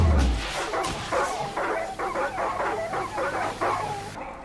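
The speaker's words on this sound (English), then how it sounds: "Oh, look, a dog." A dog in the video game Far Cry 6 yips and whimpers in a run of short, repeated bursts, fairly close and steady in level.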